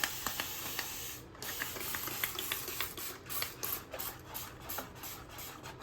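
Quick repeated spritzes of water from a spray bottle onto a bathroom countertop being painted, short hissy bursts in an irregular rhythm, close by with no talking.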